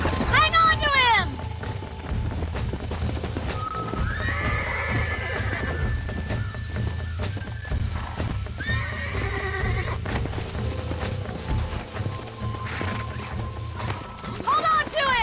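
In Red Dead Redemption, a horse gallops with rapid hoofbeats and lets out several loud whinnies and neighs, close and energetic, over a low game soundscape while characters speak at times.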